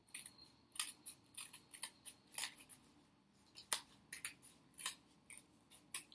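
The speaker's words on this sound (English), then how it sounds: "And then I cut it following the lines." Scissors snip through cardboard along drawn template lines, a steady run of crisp, close cuts with short pauses between clusters of snips, no voices.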